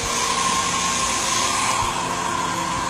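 Hair dryer running near a Labrador puppy during its first bath, a loud, steady airy whoosh with a constant whine, continuous and unbroken from start to end.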